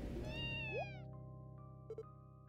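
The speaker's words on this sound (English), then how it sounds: "A cat?" A cat meows in the video game Trails from Zero: one clear, rising meow near the start over steady game music and ambience, with no talk.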